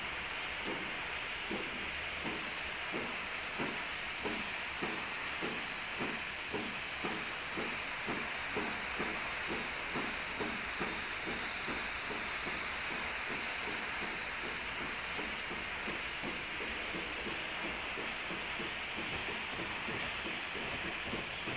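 Steam locomotive in a train simulator game hissing steadily while shunting toward the shunt limit, a constant loud steam hiss over a rhythmic chuffing pulse that repeats evenly throughout, no talk.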